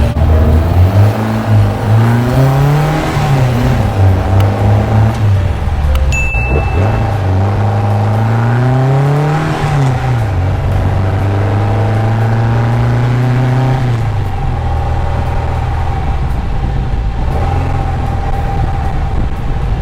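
A 1974 VW Super Beetle with a 2054cc stroker engine drives on a highway. The loud air-cooled engine note rises and falls through repeated revving and gear changes, heard steadily from inside the car.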